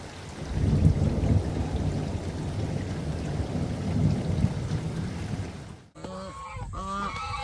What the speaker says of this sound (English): It's been raining, and not just rain, it's torrential rain.